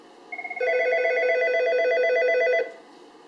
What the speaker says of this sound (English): when you dial 1081, both the telephone and the 8180 will ring simultaneously